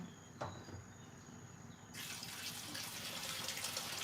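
Tap water starts running steadily into a kitchen sink halfway through, a constant close splashing hiss for washing vegetables such as beans and cabbage that are being soaked in baking soda water, after a quiet room tone.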